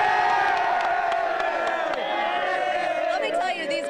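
A loud crowd cheers, whoops and shouts without pause at a high school football game as the Killeen Roos receive a game-of-the-week champion trophy on the field.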